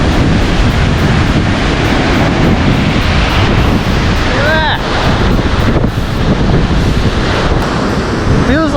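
Huge storm waves crash onto the Lake Michigan shore at Chicago in a loud, continuous roar of surf, with heavy wind battering the microphone and a couple of brief vocal exclamations.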